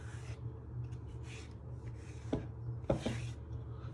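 Grated lemon zest is scraped off a kitchen grater with soft rubbing strokes and two sharper scrapes, faint and close against a low background hum.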